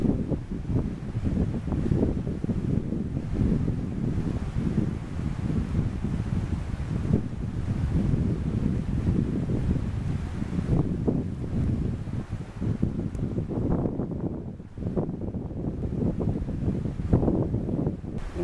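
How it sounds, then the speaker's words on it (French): Wind blows steadily across an open bivouac site in the woods, a continuous low rushing with gusty swells and some microphone buffeting throughout. "là, il y a toujours un peu de vent"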